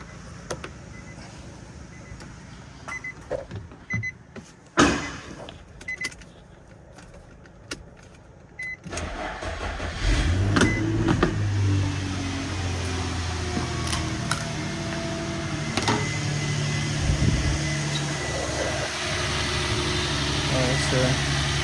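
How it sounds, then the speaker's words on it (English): An Infiniti FX35 SUV, just fitted with a new alternator, sits quiet through some clicks and handling noises, then its engine cranks and catches partway through and settles into a steady, fairly loud idle. "So let's start the car."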